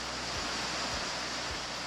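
Kravice waterfalls in Bosnia and Herzegovina pouring steadily: a dense, even broadband roar of falling water heard from a distance, with no voices.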